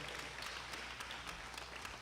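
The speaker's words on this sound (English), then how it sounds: "give Executive Director, Mr. Campos, a big round of applause" A live audience at a leadership military academy event applauds their executive director, Mr. Campos, with a steady wash of clapping that stays faint and distant throughout.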